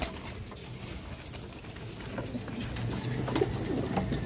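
A prized pure-bred pigeon cooing on a rooftop, soft repeated throaty coos that come close and grow slightly louder toward the end.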